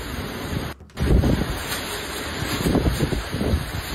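Heavy typhoon rain pours and floodwater rushes in Cebu, a dense continuous roar with a brief dropout near the start, loud and close, with no talking.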